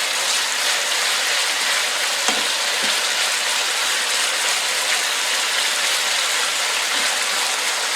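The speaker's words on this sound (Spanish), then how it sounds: "Ahí lo dejamos por unos minutos para que empiece a dorar el pollo." Chicken for arroz chaufa fries over high heat, a continuous close, bright sizzle with a few soft stirring knocks and no talking.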